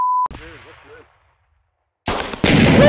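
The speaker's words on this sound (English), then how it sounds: "Guys, I heard shots up here." Gunfire in a video game: a sharp beep and blast at the start, then a loud burst of rapid shots near the end with a brief lull between, and voices talking in the game.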